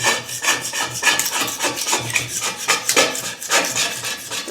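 Ceramic kiln shelf being scraped clean with a hand tool, a steady run of rough rasping strokes up close, dense and repetitive with no pauses.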